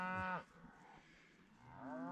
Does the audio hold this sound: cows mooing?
yes